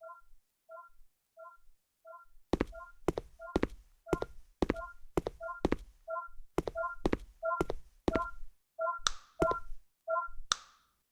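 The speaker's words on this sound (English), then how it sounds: "Use the sonar sounds to tell where it is." Sonar cues in the Blind Survival video game, a series of short triple-tone beeps repeating steadily, then joined by sharp snapping clicks that come faster and faster, with brief pauses between them, no talking.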